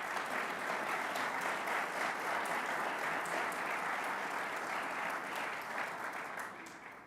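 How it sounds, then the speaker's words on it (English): Sustained applause from an assembled audience for state assembly members and senators at a governor's announcement event, a dense steady wash of many hands clapping, even throughout and tapering slightly at the end, with no speech over it. "let's give them a round of applause."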